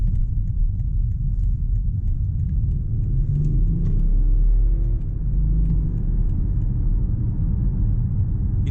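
BMW X5 30d M Sport (G05) diesel SUV accelerating hard on the road, a steady low engine rumble with rising harmonics midway, heard from inside the cabin with constant road noise.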